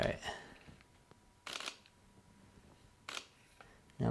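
A camera shutter set to a slow speed fires in a few distinct clicks spaced over several seconds, close and sharp against a quiet outdoor twilight background, with faint voices.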